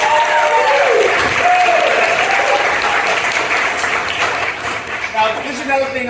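A large audience applauds for the Coast Guard, a dense wash of clapping that stays loud and steady for the whole stretch, with some cheering mixed in and a brief musical tone near the start.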